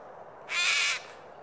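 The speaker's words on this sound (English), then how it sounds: "The call of the King Parrot." A king parrot gives a single harsh, screechy call lasting about half a second, fairly close and clear over a quiet morning background.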